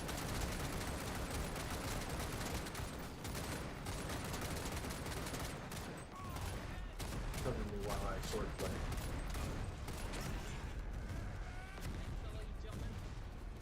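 Heavy machine gun fire rattles through a chaotic video game battle, dense and continuous bursts mixed with other gunfire and explosions throughout, with a voice talking over the din.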